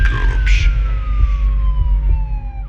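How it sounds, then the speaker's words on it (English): An ambulance siren wails loudly and steadily, its falling pitch sliding down as the vehicle drives away, with car engine rumble underneath. "The ambulance drove away."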